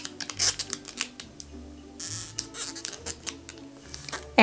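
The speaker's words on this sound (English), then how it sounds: "Okay, so then what you do is you peel off this backing." Vinyl backing peeled off a craft sheet at a sharp angle, giving a close, quiet crackling and rustling with scattered small ticks and brief tearing bursts.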